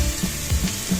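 Chopped onion, ginger, garlic and green chili sizzle in a hot pan, a brief dense crackle with a few soft stirring bumps, close and fairly loud.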